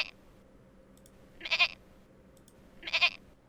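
Someone imitates goat noises, making two short, nasal bleating calls about a second and a half apart, close and fairly loud against a quiet background.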